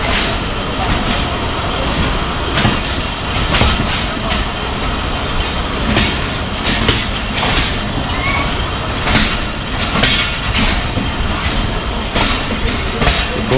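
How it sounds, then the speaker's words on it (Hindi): The Jaffar Express pulls out of Wazirabad station toward Rawalpindi, heard from on board as a steady rumble with rhythmic wheel clicks and clatter, plus faint squeals. "दो मिनट के स्टॉप के बाद ट्रेन हमारी निकल पड़ी है वज़ीराबाद से रावलपिंडी की तरफ।"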